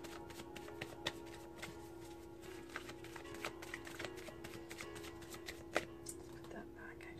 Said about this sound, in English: Can we get one card to signify the end of the shuffle?